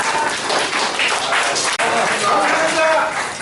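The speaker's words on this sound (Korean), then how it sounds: "큰 박수 부탁드리겠습니다." Outdoor applause from a marathon club gathering on a Sunday morning at Geumosan, a dense wash of clapping with voices and chatter mixed in, continuing steadily throughout.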